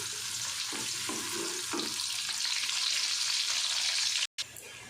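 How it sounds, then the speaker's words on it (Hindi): Onions with cloves and cumin for chana dal pulao sauté in hot oil as a dense, even hiss with a few soft stirring bumps early on. The sound cuts off abruptly near the end. "प्याज हमारा अच्छे से सौते हो गया।"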